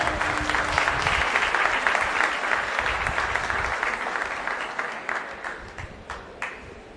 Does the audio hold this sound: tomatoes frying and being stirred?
no